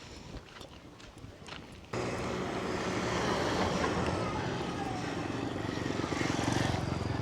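A large motorbike carrying three riders passes on a village road in Tanzania, its engine drone rising suddenly to a loud, sustained rumble and roar that continues for several seconds under faint wind.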